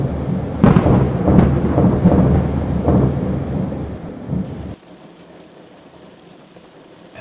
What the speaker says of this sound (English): As the storm rages outside